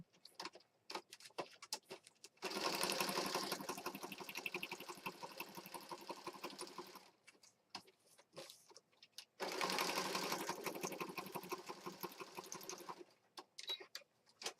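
A sewing machine stitches a planner journal kit in two fast, steady runs of a few seconds each. Short clicks and handling noises come before, between and after the runs.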